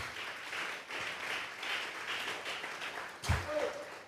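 A church congregation claps during a Sunday service, a soft, continuous patter of hands heard from some distance, ending in a brief thump and a short burst of voices.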